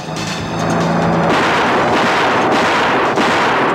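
Gunfire rings out in a Tagalog action film scene, a loud dense burst of shots and crashes filling the short clip after a brief engine-like hum at the start.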